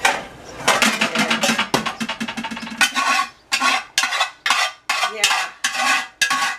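A big spoon pressing and clinking against a pot while squeezing juice from elderberries, a run of sharp metallic knocks and scrapes, then slower separated bursts of mashing, loud and close with no talk.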